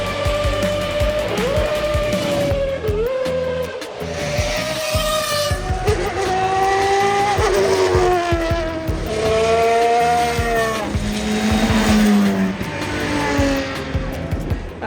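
Cars at the Goodwood Festival of Speed hill climb roar past one after another, engines rising and falling in pitch through gear changes, with tyre squeal and loud, continuous revving.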